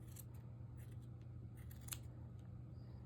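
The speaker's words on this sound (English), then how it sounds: "I trim this until I get a beautiful round pom-pom" Scissors trim a yarn pom-pom made for a baby beanie: a faint series of quick snips over a low steady hum, heard close and alone.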